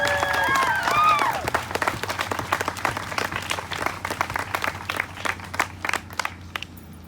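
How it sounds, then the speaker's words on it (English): Audience at a community anti-racism event breaks into applause, dense clapping at first with a brief tonal chime, then thinning into scattered individual claps. "You deserve a round of applause."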